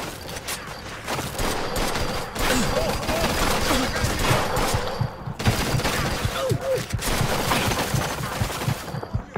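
Rapid shotgun and other gunfire in the crime video game Mafia 2, dense bursts of blasts running through most of the stretch alongside game noise, with voices heard now and then.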